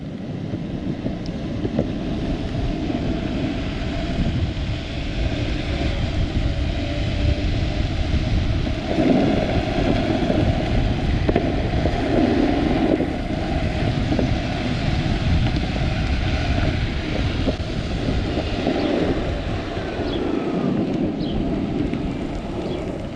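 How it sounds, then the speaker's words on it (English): Continuous wind rumbling against the microphone while riding a Meepo NLS electric skateboard, a dense low roar that swells and eases over about twenty seconds, with no voices. "it's getting a little windy"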